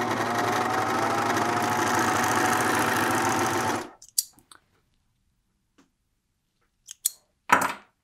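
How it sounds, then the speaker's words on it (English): A serger overlocks a sleeve seam on a sewing project, running as a steady, loud mechanical whir for about four seconds before stopping abruptly, followed by a few brief faint clicks and handling noises. "I'm going to serge mine"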